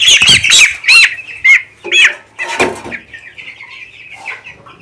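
Young two-week-old poultry chicks squawk and cluck loudly and repeatedly during weighing on a scale, with bursts of agitated calls close by, fading to softer chirps toward the end.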